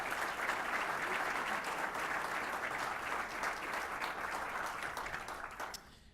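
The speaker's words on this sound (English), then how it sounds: "Please give him another round of applause" Applause from an audience at a democracy awards event fills the room, a dense, sustained crowd clapping that holds steady, then thins and fades out in the final second.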